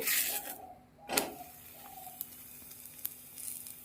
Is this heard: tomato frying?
yes